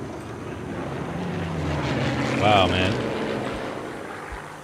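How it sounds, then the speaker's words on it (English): A propeller airplane drones overhead in the video game Sniper Elite 3, rising to a near pass and fading, with players talking over the engine noise. "that's a plane flying over"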